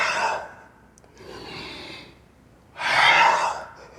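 Two or three long, breathy exhales during a yoga mobility movement, one after another, close and clear. The last breath is the loudest and most forceful, with a short quiet pause between each.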